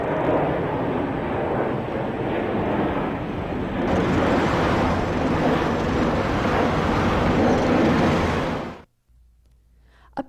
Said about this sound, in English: And aircraft.